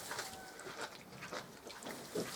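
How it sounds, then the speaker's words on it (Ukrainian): Small piglets grunting and squealing in short bursts close by, with scattered rustling and farmyard noise around them. "ось такі маленькі поросятка"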